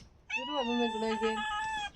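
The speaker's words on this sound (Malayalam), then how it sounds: "പൂച്ചകളൊക്കെ ഇവിടെ പൂച്ചകളാണ് കേട്ടാ" A cat lets out one long, drawn-out meow up close, loud and wavering, ending with a brief sharp click.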